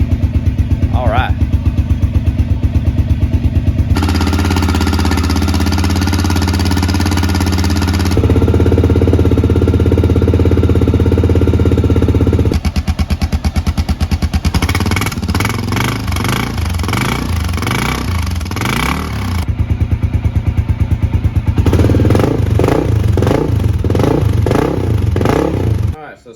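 Honda XR650L single-cylinder thumper engine with an aftermarket exhaust, running loud and close with a deep, pulsing idle and several rev-ups, a person talking over parts of it.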